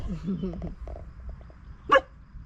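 A dog on a rural Portugal homestead gives one sharp, fairly close bark near the end, after a stretch of people talking and softer background noise.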